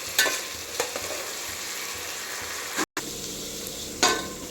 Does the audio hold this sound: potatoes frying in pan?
yes